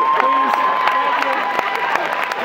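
Concert crowd at an a cappella group's show clapping and cheering, sharp claps and shouts over a loud, busy hall murmur with voices mixed in.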